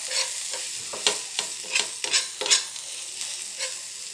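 Spices, including cumin powder, coriander powder, chaat masala and chili powder, stirred into cooked peas for batani chaat, giving a steady scraping, stirring rhythm with a soft sizzle underneath, close up and with no talking.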